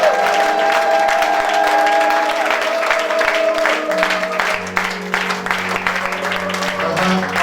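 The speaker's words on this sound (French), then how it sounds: "Acclame encore très fort," A church congregation cheers and applauds during a service: steady, dense clapping and crowd noise mixed with sustained organ or keyboard tones throughout.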